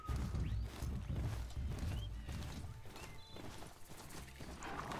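Horse hooves clip-clopping steadily with a whinny in the video game Horizon Zero Dawn, mixed with low rumbling game ambience and loud thumping.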